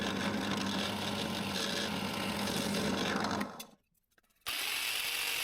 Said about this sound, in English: For the smaller rounding, I use a 20 millimeter drill bit.